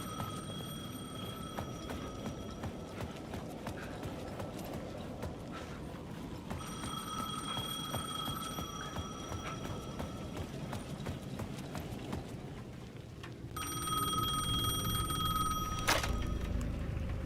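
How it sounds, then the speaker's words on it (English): A payphone in the video game Alan Wake 2 rings in repeated bursts of high, bell-like tones, separated by pauses, over a steady background of hoof-like clopping. "The payphone at the edge of the plaza was ringing again"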